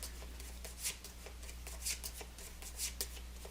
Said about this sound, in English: shuffle my cards